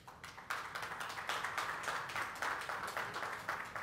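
An audience applauds as distinguished guests take their seats on the dais at a WHO event, with dense, sustained clapping that swells at the start and holds steady.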